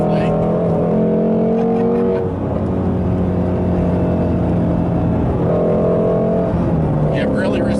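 A 2017 Ford Mustang Shelby GT350 engine drones and rises while driving, a steady, loud mechanical growl from inside the car with a brief dip partway through, and voices talk over it.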